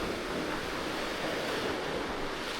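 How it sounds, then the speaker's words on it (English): Ocean waves surge through a cliff opening on a Trinidad and Tobago coast, a steady loud roar of churning surf and wind rush, with no voices. "There's like waves coming through there."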